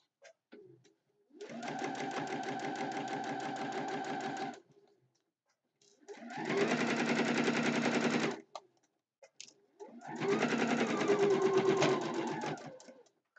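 A sewing machine stitches a quilt made from old napkins in three steady, loud bursts of rapid needle chatter, each a few seconds long, separated by short pauses with no talking.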